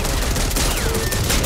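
Rapid gunfire from the zombie shooter Back 4 Blood on Nightmare difficulty, a loud, continuous burst of overlapping shots with no pause, filling the whole moment alone.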